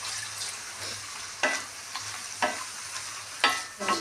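Chopped banana stem pieces with turmeric are stirred in a frying pan, steady sizzle under four or five clear scraping strokes at roughly one-second intervals.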